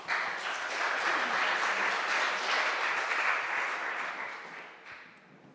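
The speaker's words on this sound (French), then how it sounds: "Merci de les applaudir." A conference audience gives a sustained round of applause for doctors. It is steady and full for several seconds, then fades out.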